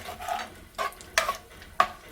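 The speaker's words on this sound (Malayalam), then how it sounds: "നന്നായി ഇളക്കി ചേർക്കുക" A spoon scrapes through koottu curry with grated coconut in a pan, giving four short, close scraping strokes with a soft sizzle beneath, and no voices.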